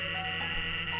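A phone timer alarm goes off, giving a steady, high electronic tone that holds at an even level for about a second with no talking.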